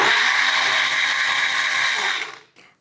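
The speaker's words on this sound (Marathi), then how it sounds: "आणि मिक्सरला वाटून घेऊयात." A kitchen mixer grinder blending a chickpea mixture, a loud, close, steady whirring roar that cuts off abruptly near the end.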